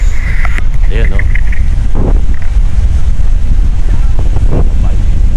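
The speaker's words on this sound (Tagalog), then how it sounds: "Hangin naman." Strong wind buffets the microphone outdoors in Saudi Arabia, a loud continuous roar with gusty rumbling throughout while someone talks over it.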